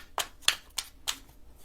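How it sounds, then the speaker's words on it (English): Tarot cards shuffled by hand, giving four quiet, evenly spaced riffling bursts with short pauses between, close and soft with no voices. "Y'all might have to fast forward through the shuffling"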